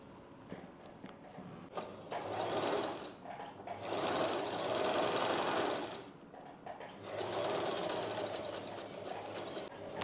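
A sewing machine stitches lining cloth onto a katori blouse piece, running in several rapid bursts of close, steady clatter separated by brief pauses.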